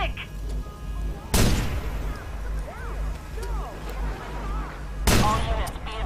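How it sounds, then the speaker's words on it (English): Gunfire in a Watch Dogs game: two sharp, loud shots several seconds apart, each followed by a decaying tail. A voice speaks underneath between the shots. "People are shooting!"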